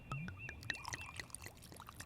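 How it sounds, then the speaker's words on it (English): Galliano liqueur being poured into a shot glass, a brief quiet trickle with small clinks, heard alone for about two seconds. "Pour me a shot of amaretto, will you? No, make it a Galliano while you're at it."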